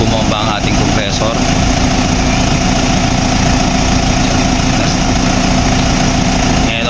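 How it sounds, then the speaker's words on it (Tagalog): The engine of a Mitsubishi L300 Euro4 idles loud and steady while its AC compressor pumps, a constant churning drone with a brief voice near the start. "malakas bumomba ang ating compressor"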